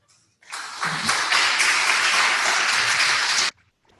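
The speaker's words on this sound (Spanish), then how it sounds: "Recibamos con un caluroso aplauso al doctor Raúl Acosta Salazar" Warm applause from an audience at an academic conference on the El Niño phenomenon, greeting an invited doctor; a dense burst of many hands clapping starts abruptly, holds steady for about three seconds, then stops at once, with no talk.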